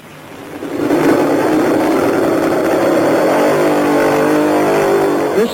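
A Moto Guzzi racing motorcycle at the 1950 Isle of Man TT fires and revs loudly, its engine building into a sustained, harsh roar close by after a push start, without speech.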